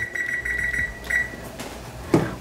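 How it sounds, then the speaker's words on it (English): A kitchen timer beeps as it is set while pasta water boils, a series of short, high electronic beeps close by, followed by a soft clunk. "I'll set a timer here"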